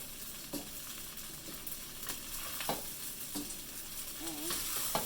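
Green onions stirred into Japanese fried rice sizzling in a hot pan: a constant frying hiss with several close scraping and tapping stirs from a utensil, and no speech.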